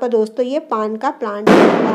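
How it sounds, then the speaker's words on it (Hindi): A person talks for a moment, then a loud, crackling burst of Diwali firecrackers erupts outside nearby at the end. "यहाँ पर पटाखों के लिए सॉरी बहुत तेज़ आवाज़ हो रही है"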